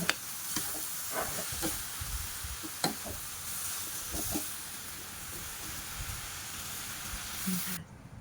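Water spinach is stir-fried with pork belly and shrimp paste in a hot pan, giving a soft, constant hiss and sizzle broken by quiet scraping and tossing sounds.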